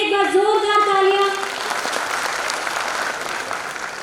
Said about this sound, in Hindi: हमारी छोटी ऐश्वर्या के लिए एक बार जोरदार तालियां